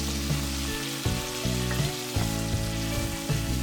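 Stuffed okra (bhindi) frying uncovered in a pan over a medium flame gives a steady close sizzle, with a few soft scrapes and taps of stirring scattered through it.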